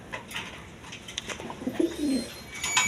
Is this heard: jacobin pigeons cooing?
yes